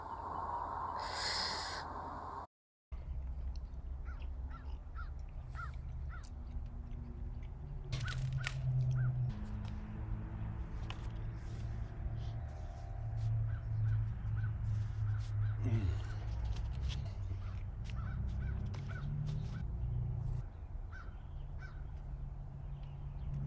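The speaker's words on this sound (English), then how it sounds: "Crows." Crows caw repeatedly outdoors, the calls moderately distant and irregular, sounding over a faint background hum after a brief opening tone.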